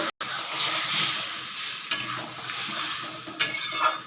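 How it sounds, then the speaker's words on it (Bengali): Water hits a hot pan of okra, potato and shrimp curry, giving a broad steady sizzle and hiss with a few sharp clinks of a utensil against the pot. "অল্প একটু জল দিয়ে দেব।"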